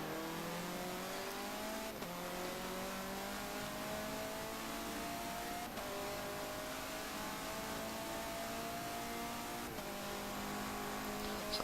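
A KTM race car lapping in the Forza racing game, a loud engine droning steadily as revs climb through gears, with several abrupt shift drops, alone without speech.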